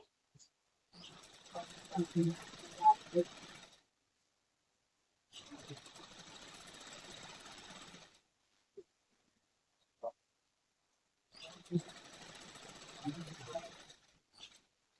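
A sewing machine stitches along the lining edges of a frock, running in three long buzzing bursts with quiet gaps between them, fairly soft and close.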